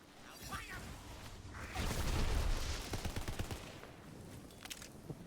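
Bursts of rapid gunfire in the looter-shooter game Tiny Tina's Wonderlands, a quick rattling volley swelling in the middle and trailing off into scattered shots, fairly faint.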